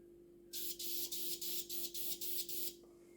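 An airbrush lays a light dust coat of paint on a model of the Russian Navy Project 955 Dolgoruky submarine: eight short, even bursts of hissing spray follow one another rapidly against a faint steady hum.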